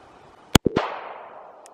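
One sharp, close gunshot cracks out at an outdoor shooting range, followed by a quick second impact and a rolling echo that fades over about a second.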